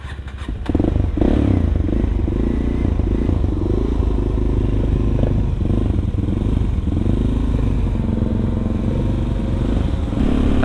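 A 400 cc supermoto motorcycle rides at night, its engine a loud, close, steady drone with a rough throb and rattling clatter, starting abruptly after a short quiet moment and holding without pause.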